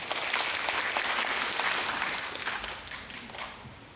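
An audience at a humanities lecture event in Jangheung, Korea, gives a burst of dense applause that starts full and gradually tapers off over a few seconds.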